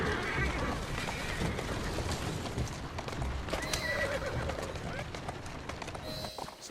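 A horse in Assassin's Creed Syndicate whinnies and clip-clops along at a run, hoofbeats steady and close over a busy street-like game soundscape, with a couple of sharper neighs rising through the mix.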